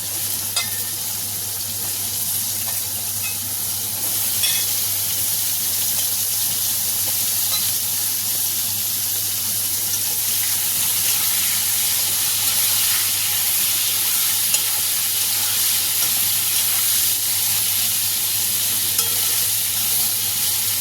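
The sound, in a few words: potato, papaya and drumstick pieces frying in oil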